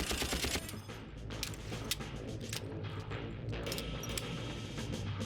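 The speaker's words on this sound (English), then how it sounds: "An M249 machine gun, and you can just go full Rambo with it" An M249 machine gun in Far Cry fires in rapid bursts of crackling shots, fairly faint, with mechanical clatter between them and no talking.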